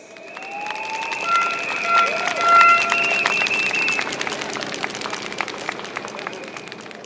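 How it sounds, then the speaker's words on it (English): Applause rises from a crowd at an outdoor Pasir Ris-Changi election rally in Singapore, dense and steady for several seconds with a few cheers, while tonal whistles or music sound above it. "Ladies and gentlemen, please give a round of applause to Jacqueline Fernandez."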